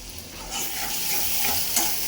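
Small sarpunti fish frying and being stirred in a pan, a steady broadband sizzle with scraping stirs and a brief clink near the end, close and continuous with no voices.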